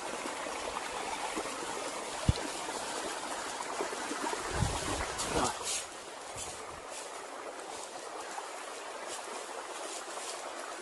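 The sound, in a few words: water flowing in a little creek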